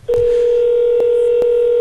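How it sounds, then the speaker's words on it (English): LG ipLDK-60 office phone sounding a steady intercom call tone, a sustained electronic pitch with brief periodic clicks, loud and close with no talking. "all we have to do is simply press Bill's button and wait for him to answer"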